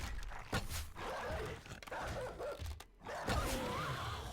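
Dogs barking and yipping in the survival video game 7 Days to Die during a dog horde, with repeated sharp barks over a dense, noisy game soundscape.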